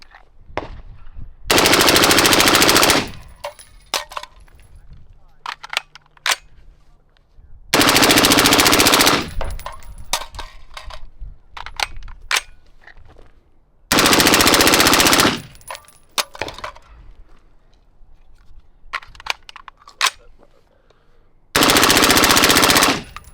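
A 6mm M4-platform rifle fires four long, loud bursts of rapid automatic gunfire, each lasting a couple of seconds and separated by quieter gaps filled with handling clicks and scattered sounds outdoors.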